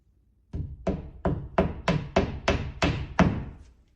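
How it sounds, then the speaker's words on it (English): Drywall anchors are tapped into a wall with eight evenly spaced, close, solid knocks in a steady rhythm, each hit ringing out briefly in a quiet room. "These are just the ones you tap in."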